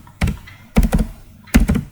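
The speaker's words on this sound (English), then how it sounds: "So I'm going to type this name, space." Three quick clusters of clacking keystrokes as a name is typed on a computer keyboard in a spreadsheet, close and crisp with short pauses between bursts.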